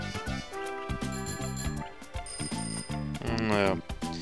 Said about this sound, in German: Die Hupe.